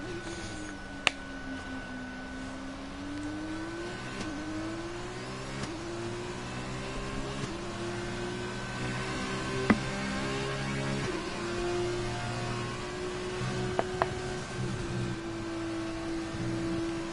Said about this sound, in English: Let's just listen to this engine.